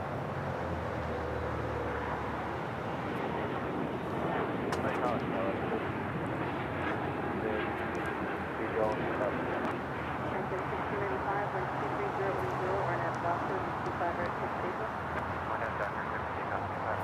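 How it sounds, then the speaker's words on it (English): A Porter Airlines Embraer E195-E2 jet takes off from the south side at LAX, a steady distant roar swelling slightly, heard without talk. "Next takeoff here on the south side is Porter. E195 E2 heading back to Toronto,"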